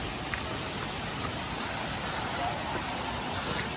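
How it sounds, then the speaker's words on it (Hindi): A forest waterfall near Mumbai in the rainy season roars as a continuous broadband rush of falling water. It is steady and fairly loud throughout, with no clear talk over it. "आवाज़ भी आ रही अच्छी पानी की, ठीक है। ओ ये रहा वाटरफॉल"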